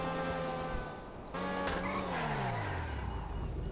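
A Grotti X80 Proto supercar in GTA Online brakes with a tire squeal over a loud, close engine note that cuts out briefly, then returns and sweeps downward in pitch.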